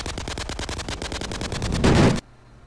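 Loud automatic gunfire in a video game, a rapid even burst of shots lasting about two seconds that cuts off abruptly, with no talk.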